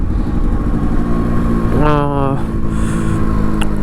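Yamaha RX135 motorcycle being ridden on a downhill road, its engine note droning loud and close with a brief rising shift in pitch partway through.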